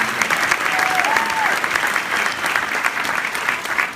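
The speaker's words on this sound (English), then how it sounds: "Let's hear it for Journey Hancock" Audience applause at a company event, a dense, steady clapping from a crowd that holds constant throughout, with a faint voice or whistle briefly rising in the background.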